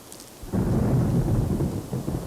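Steady rain pours outdoors on a dark autumn day in New York, with deep rolling thunder swelling in after a quiet opening and rumbling continuously beneath the downpour.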